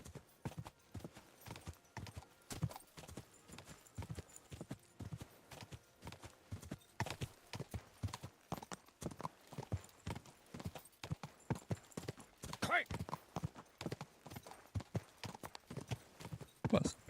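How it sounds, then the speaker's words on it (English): Horse hooves clip-clop in a rapid, steady rhythm in Kingdom Come Deliverance 2, a fast gait heard close and fairly quiet throughout with no talk over it. "What a speedy horse he's got."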